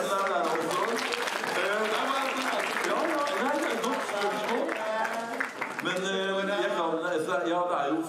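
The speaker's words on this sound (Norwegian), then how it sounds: "Du fortjener litt applaus til deg der også." Audience applause in a hall at an inclusion-day event, dense clapping heard together with overlapping speech and voices throughout.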